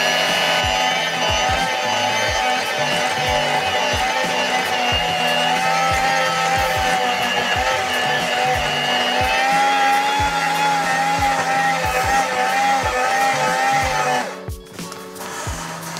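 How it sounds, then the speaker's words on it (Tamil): Electric hand mixer on low speed beating brownie batter in a bowl, a steady close whir with rhythmic clicking pulses, cutting off near the end. "ஸ்லோவாக ஒன்னில் விட்டுட்டு இதை மிக்ஸ் பண்ணுறேன்."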